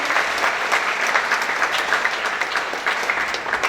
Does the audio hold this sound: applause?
yes